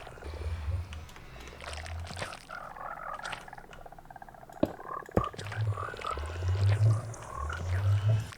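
Frogs croak in a Minecraft froglight farm, low throaty calls coming in short bursts over a busy, steady game ambience.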